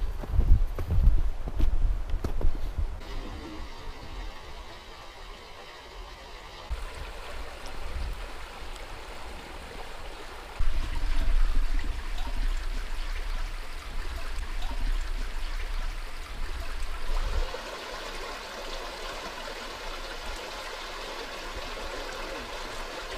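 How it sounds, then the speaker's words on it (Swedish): A forest stream flowing toward a mill gives a continuous, soft watery rush. Heavy footsteps crunch over it at the start, and it swells louder for several seconds in the middle. "Det måste ju vara ett bäcke rinner till kvarnen, va?"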